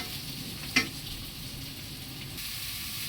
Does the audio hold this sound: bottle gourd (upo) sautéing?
yes